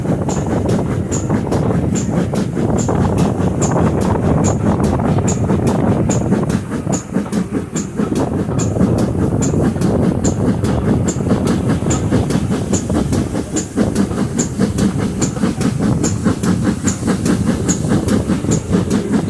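A steam train on the Bodmin Railway climbs the steep hill from Boscarn junction toward Bodmin, heard from aboard as loud, rapid rhythmic chuffing over steady rumbling wheels and carriage noise, with no speech.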